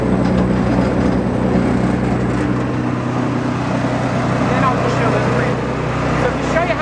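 The blower on a Supershredz ECO shredding system, fed by agitator bars and an airlock, runs at low variable speed as a steady, loud droning hum that holds unchanged throughout.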